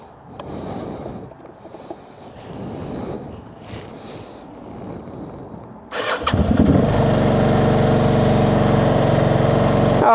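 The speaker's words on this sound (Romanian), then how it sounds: "Hai să vedem dacă pornește motorul." A motorcycle engine starts on a cold morning, cranking briefly and then catching into a steady, loud idle after several seconds of quieter rustling and handling noise nearby.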